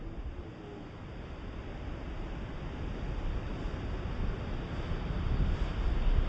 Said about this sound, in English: This U-shaped canyon is the mightiest of Iguazu waterfalls, swallowing nearly half of the river's flow in a single, unrelenting descent.